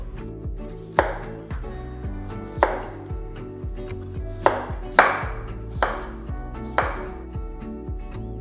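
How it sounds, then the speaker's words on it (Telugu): A knife slicing peeled raw plantain into even slices on a board, each cut landing as a crisp close tap in a steady rhythm of about a dozen strokes, with no one speaking. "ఆ తర్వాత ఇలా స్లైసెస్గా కట్ చేయాలి"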